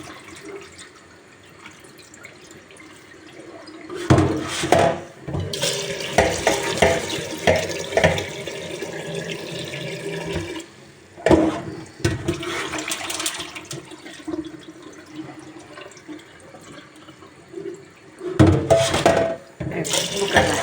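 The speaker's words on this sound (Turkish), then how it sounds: "Mercimeklerimizi şöyle güzelce bir temizleyelim." Lentils rinsed under a running kitchen tap, water gushing in several bursts with quieter gaps between, close and clear with no talk.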